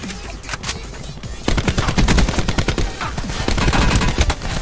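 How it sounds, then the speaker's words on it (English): Rapid bursts of automatic gunfire from an online shooter game, loud and dense, growing heavier and nearly continuous after the first second with sharp overlapping shots. "I shot you like 5 times!"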